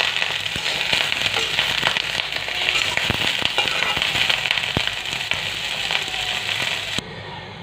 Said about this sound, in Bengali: দেখেন ফুলকপি ভাজতেছে সুন্দর করে।